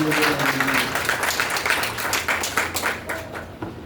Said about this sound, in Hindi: उनके सम्मान में एक बार जोरदार तालियां